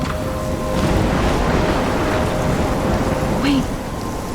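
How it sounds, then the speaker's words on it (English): Steady rain and a low rumble of thunder from a storm in the video game Life Is Strange, constant and fairly loud throughout, with a brief low swell near the end. "I'm trapped in a storm?"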